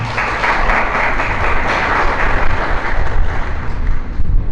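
A crowd applauds steadily, a dense wash of clapping that holds at an even level for a few seconds.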